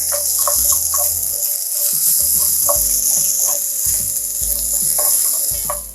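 Onion and garlic frying in a pan for a broccoli side dish, loud continuous crackling sizzle with repeated stirring scrapes and clicks, close up and without talk.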